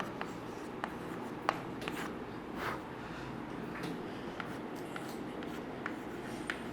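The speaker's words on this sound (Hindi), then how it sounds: "लिखिए, आंसर लिखते हैं इसका" A pen writes out an answer during a chemistry lesson, producing quiet, steady scratching with brief sharp strokes and taps against a faint room background, no voices.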